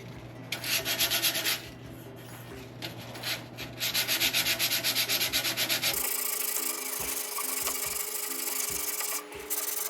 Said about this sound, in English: I'm going to use my hand sander to get in these edges